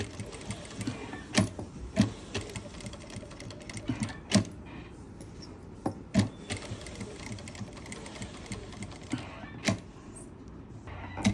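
A sewing machine stitching along the edge of cut work on a garment neckline, a rapid close mechanical whir running continuously with a few louder clunks and knocks, no talking.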